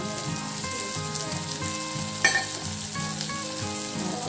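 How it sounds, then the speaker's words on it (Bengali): Vegetables fry over low heat in a pan for a veg pasta, a steady close sizzle throughout, with one brief clatter partway through and no talk. "একটু হালকা আঁচে এগুলো ভেজে নেবো"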